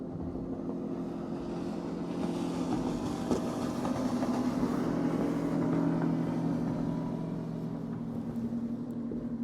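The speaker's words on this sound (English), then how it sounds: "Wait for the boat to rip by," A motorboat passes on the water near a wooded spot in Ohio, its engine a steady low drone with a broad wash of hull and water noise that swells mid-clip and then eases, with no voices.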